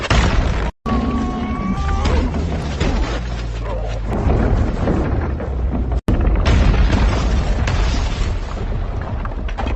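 A bazooka blast from the action film Hidden Strike: a loud, sustained booming explosion with crashing debris and a heavy rumble that fills the whole stretch, with two brief cuts to silence.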